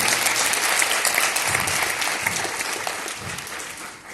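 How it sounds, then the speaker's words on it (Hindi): A crowd of parents applauds loudly at a school session in the Delhi NCR, in a dense, sustained burst of clapping that slowly fades toward the end. "सभी पेरेंट्स ने यहाँ जोरदार तालियां हो जाए जितने लोग यहाँ हैं।"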